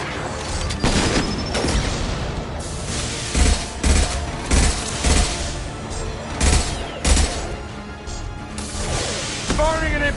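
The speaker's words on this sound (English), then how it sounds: "Firing an impact shot!" Impact shot fired in a video game battle against heavy mechs: a string of loud, booming blasts and crashing gunfire, several heavy thuds spaced a second or so apart over a continuous din of combat.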